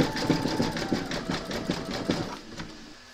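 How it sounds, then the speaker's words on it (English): An embroidery machine zigzag stitches an applique onto a hooped scarecrow design, a steady close mechanical whir with rapid repeating needle pulses that slows and fades toward the end. "Pop your hoop into your machine and stitch round number 17, and that's going to zigzag down the arm"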